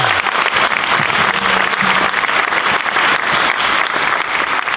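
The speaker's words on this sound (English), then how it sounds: "Can we give them a round of applause?" Loud, dense applause from an audience at a fifth-grade moving-up ceremony, a continuous roar of many hands clapping with no pauses.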